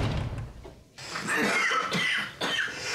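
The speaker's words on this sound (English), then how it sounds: "Just starts coughing blood all over his nice books." A man coughs harshly a few times in quick bursts, coughing up blood, close and fairly loud.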